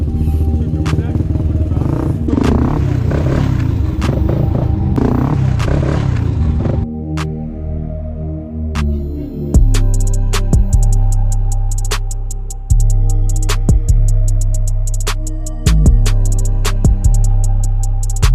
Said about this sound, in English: pull up on the handlebars and punch the throttle